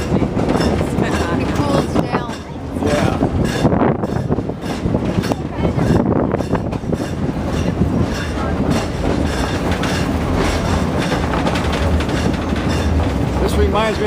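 The Verde Canyon Railroad train rolls along the rails in Arizona, a loud, continuous rumble with rhythmic clickety-clack and wind buffeting close to the microphone, with people talking intermittently over it.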